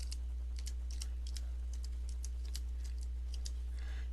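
Typing on a computer keyboard while entering a word into a drawing's parts list: a steady run of crisp, close key clicks at an even rhythm over a low constant hum, with no talking.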